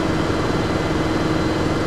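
Main engine number 3 of a ship, a big marine diesel, runs in the engine room with a steady, loud, dense broadband roar and low rumble that holds unchanged throughout, with no voices.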